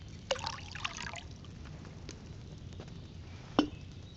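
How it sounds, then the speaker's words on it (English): Wine poured into a cauldron in Kingdom Come: Deliverance, a short trickling splash near the start followed by quieter dribbles, soft clunks and a sharp knock toward the end. "First, you have to pour the right base into the cauldron."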